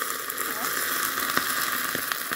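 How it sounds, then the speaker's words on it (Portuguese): Hot oil poured onto chili peppers and olives in a homemade hot pepper preparation sizzles and crackles steadily and loudly throughout, a dense, constant hiss close to the microphone. "Agora eu vou colocar óleo quente."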